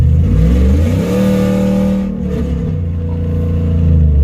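A cammed 5.7 HEMI V8 with its exhaust cutout open, idling with a loud, deep, lumpy rumble and briefly blipped under light throttle, close and dominant with no talk.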